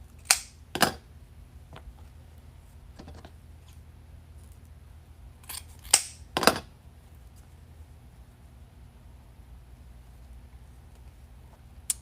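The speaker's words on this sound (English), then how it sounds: "You need the scissors." Scissors cutting ribbon for an Easter bunny wreath give a few sharp, separate snips at close range, spaced out with quiet pauses between them.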